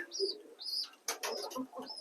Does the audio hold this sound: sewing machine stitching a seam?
no